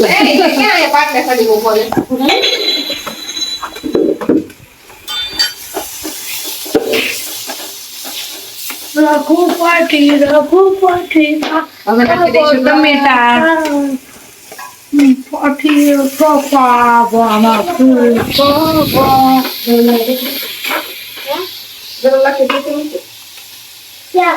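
Asafoetida, turmeric and onions sizzle in hot oil with a soft, steady hiss that runs beneath nearly continuous talking, growing more audible in the short pauses between speech.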